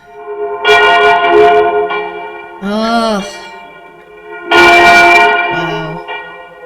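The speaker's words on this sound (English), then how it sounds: "These bell shots are crazy." Church bells ring in the 1976 horror film The Omen, heavy resonant tolls sounding in loud bursts with lingering harmonic hum, mixed with a brief spoken exclamation and other voices.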